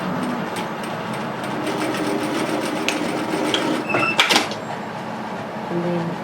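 A sewing machine runs steadily, stitching a seam on a Vienna tailored vest waistcoat with a close, continuous mechanical whir and a brief rattling clatter near the end.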